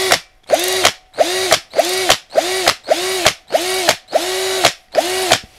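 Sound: Topshak TS-ED3 cordless drill driver driving large 6x55 screw

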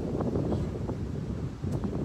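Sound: strong wind blowing into microphone

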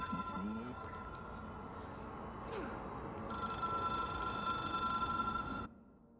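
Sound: telephone ringing in the video game Control

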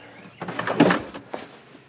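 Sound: drawer on soft close ball bearing slides

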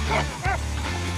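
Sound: hog hunting dog barking

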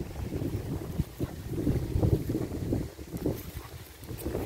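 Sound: ocean waves at the beach

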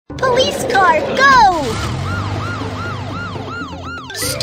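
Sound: police car siren from video game

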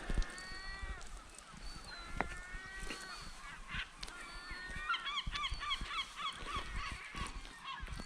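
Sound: birds on Isle of May bird island

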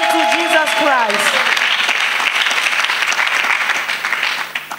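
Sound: congregation applauding

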